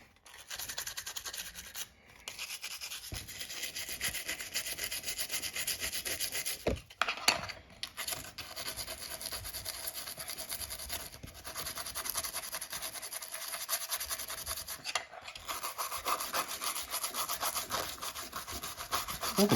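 A Pokémon Yellow cartridge is scrubbed with rubbing alcohol in close, steady rasping strokes, with a few brief pauses and no talking.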